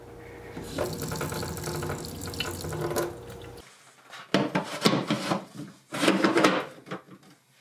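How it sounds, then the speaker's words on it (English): Water from a newly installed reverse osmosis filter runs from a kitchen faucet into a sink in a steady hiss, then stops and gives way to bumps, clatter and rustling near the cabinet. "Pops out of the kitchen cabinet here, up to our faucet. We're able to get some RO water."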